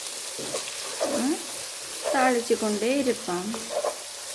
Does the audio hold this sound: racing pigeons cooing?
no